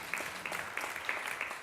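An audience at a progressive women's rights event applauds for Bibiana Aído, a quiet, steady patter of many hands clapping at a distance, with no talk over it.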